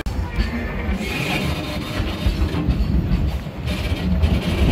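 A tourist train pulled by a steam engine rolls along the rails at Durango with a steady rumbling clatter and rhythmic clicking of wheels, heard from on board.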